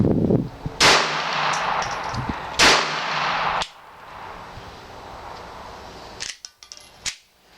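Two sharp, loud reports from a Glock 42 .380 semi-automatic pistol firing hollow point rounds outdoors, each cracking and then ringing briefly, followed by quieter metallic clicks and handling noises of the gun.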